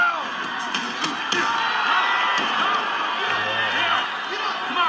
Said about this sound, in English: the lack of musical score only enhances the crowd noise and chatter from each boxer's corner